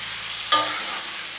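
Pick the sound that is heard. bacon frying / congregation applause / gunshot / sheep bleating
bacon frying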